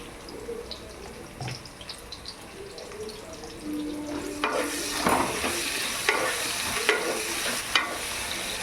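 Potatoes fry with salt and turmeric for a vegetarian ghugni, a soft sizzle that grows louder midway, with scraping stirs and clinks of a utensil against the pan.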